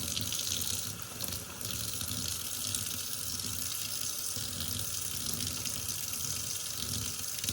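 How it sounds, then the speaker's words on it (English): Hot water runs steadily from a tap into a bowl containing a few drops of dish soap, making a continuous, close splashing gush with a brief dip in flow near the start. "we're going to get some nice hot water going here again."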